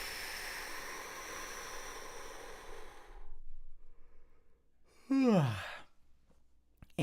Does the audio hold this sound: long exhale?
yes